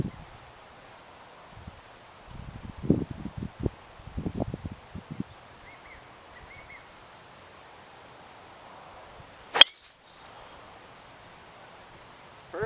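A golfer hits a cut shot on an outdoor course, and the club strikes the ball with a single crisp, sharp crack. Before it, wind and soft rustling fill a quiet stretch.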